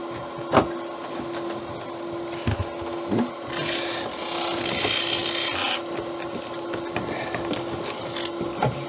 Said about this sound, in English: now we get to sanding, and this one's going to get sanded, finished, the works